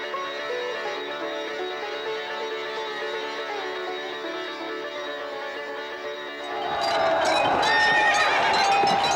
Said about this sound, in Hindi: महादेव, ये जन्म लेने से पहले ही घोड़ों का हिनहिनाना क्या दक्ष पुत्रों से संबंधित है?